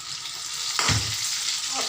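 Fish sizzling as it fries in a pan, a steady hot hiss with a sudden louder splash of spatter near the middle, then settling back to a constant sizzle.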